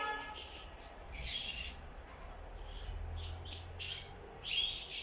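Chicks in a nest tucked among tree branches give thin, high chirps in short bursts, close but quiet, over a low background hum.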